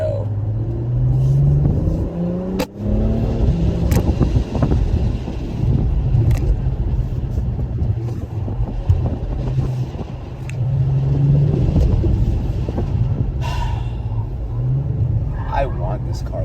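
An Acura engine rumbles and revs as the car drives and accelerates, with a few sharp knocks and people talking over the noise.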